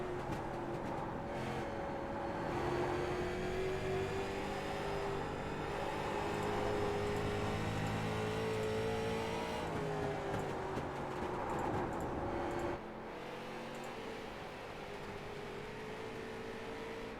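A race car engine in a sim racing game, with the slick track pushing the car loose through corners. It holds a steady, sustained drone with gliding pitch shifts, dropping a little in level near the end.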